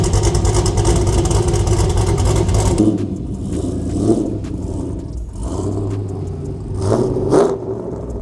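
Loud, choppy idle of a 2001 Pontiac Trans Am WS6 V8 with a new cam, true dual exhaust and custom coils and plug wires, heard close, then dropping lower with a few uneven blips of throttle as it rolls out of a garage.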